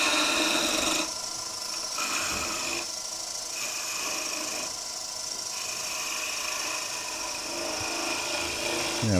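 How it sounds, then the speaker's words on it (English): Sandpaper rasping against a spinning turned wood piece on a woodturning lathe, a steady close abrasive hiss over the motor hum with brief shifts as the paper is moved along the German smoker workpiece. "what you need to do at this point is sand that up so you've got a good finish"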